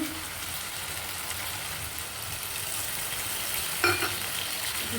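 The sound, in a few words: chicken stock poured into sizzling pan while stirring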